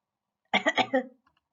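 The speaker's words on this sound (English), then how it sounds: "If you have a runny nose and you are coughing" A short burst of four quick coughs, close and moderately loud, then silence.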